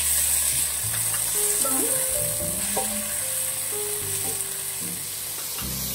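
Tomato sauté in a pan for a Filipino vegetable dish in coconut milk, giving a steady close sizzle with stirring. Low tonal hums and a brief spoken word ride beneath it.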